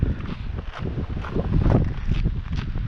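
Strong wind blows during ice fishing on a frozen river or lake in hard frost, heard as loud, buffeting gusts with low rumbling microphone noise and no talking.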